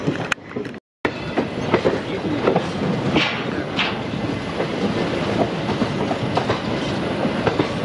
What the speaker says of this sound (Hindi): लगभग 15 मिनट के डिले के साथ यहां से डिपार्चर हुआ है, और फाइनली विजयवाड़ा अब छूट चुका है।